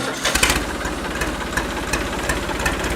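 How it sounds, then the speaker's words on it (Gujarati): A tractor engine runs at idle before plowing, giving a steady, close, knocking chug with even low-pitched pulses throughout and no voices. "જા ટ્રેક્ટર લઈને આજ ખેડીએ."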